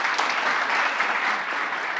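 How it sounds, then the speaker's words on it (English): A keynote conference audience claps steadily, a full room of applause at a constant level with no voices over it. "So give Nicole a round of applause, and I'll join her over there."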